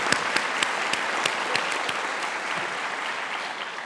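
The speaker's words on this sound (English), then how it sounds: "let's just give them one more clap" A commencement audience applauds the graduating MBA for Executives class of 2025 with dense, steady clapping that begins strong and gradually thins toward the end.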